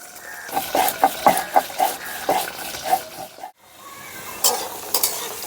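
Potatoes fry in a pan and are stirred for a couple of minutes, with a rhythmic series of scraping, clattering strokes over a soft sizzle, a brief pause, then more stirring.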